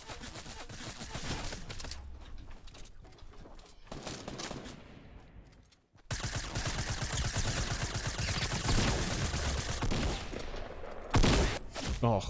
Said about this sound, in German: Ich liebe die Silenced SMG.